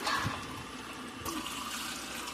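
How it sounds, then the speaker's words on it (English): Tap water runs into the water bin of a Frigidaire Gallery nugget ice maker, a quiet steady pour with a brief surge partway through. "We're going to take our water bin, fill her up."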